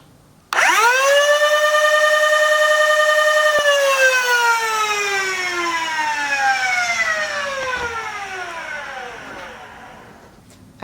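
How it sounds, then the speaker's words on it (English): A modified Nerf Rapidstrike blaster's flywheels spin up in an instant to a loud, high, harmonic whine, hold steady for a few seconds, then wind down in a long, gradually falling pitch. "just take a listen to the flywheels."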